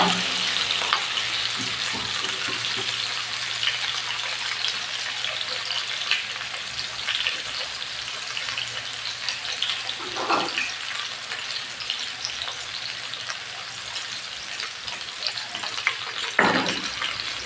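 Salted spinach greens fry over a low flame in a large pan, giving a continuous close sizzle. Occasional louder scrapes and clatters mark the stirring.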